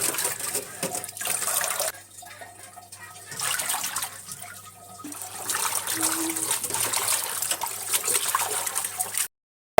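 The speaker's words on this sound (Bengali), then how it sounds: "শাকগুলো ধুয়ে নিব ভালো করে।" Leafy greens being rinsed in water by hand, a steady trickling and splashing close by that runs for most of the clip with a quieter stretch midway, no talk.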